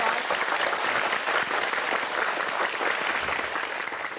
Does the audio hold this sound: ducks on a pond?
no